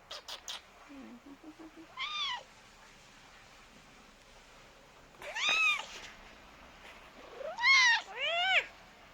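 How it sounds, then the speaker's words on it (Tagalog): A cat meows several times, with a brief chirp early on, then a pair of drawn-out, rising-and-falling meows near the end, close and clear. "My talkative cat."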